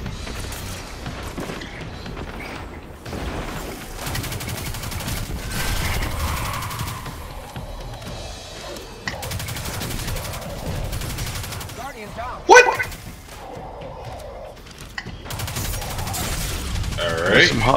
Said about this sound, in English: Oh, they're shooting.